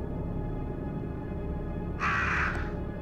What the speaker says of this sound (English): Freaking crows, ravens, crows.